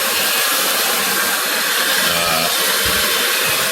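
A vacuum runs continuously while cleaning a hard surface, a loud, steady broadband whoosh and hum with slight fluctuations as it moves, alone without voices.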